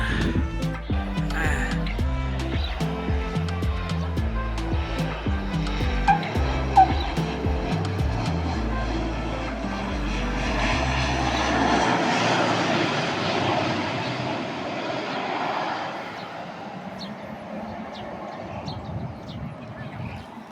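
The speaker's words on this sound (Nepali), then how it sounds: "अब प्लेन आउँदैछ आउँदैछ आउँदैछ" An aircraft engine drones and swells as a plane draws nearer over Pokhara, Nepal, a loud sustained roar with low rumble at first and occasional voices beneath.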